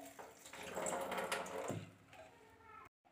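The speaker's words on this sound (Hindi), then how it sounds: "अब हम ये पानी निकाल देते हैं और चने निकाल कर ये कुकर में डाल देते हैं" Water draining off soaked black chickpeas into a sink, a continuous splashing pour with a brief wooden knock midway and a sudden stop near the end.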